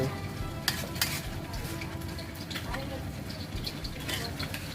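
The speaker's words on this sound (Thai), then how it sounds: "ผัดเนี่ยก่อนกะเพราค่ะ" Holy basil stir-fries in a hot pan, giving a steady sizzle broken by scraping and clinking strokes of a utensil against the pan, with a voice talking faintly underneath.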